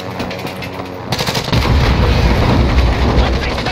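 Video game battle with dense, booming gunfire and RPG explosions: a scattered popping start breaks into a loud, continuous barrage of blasts and shots.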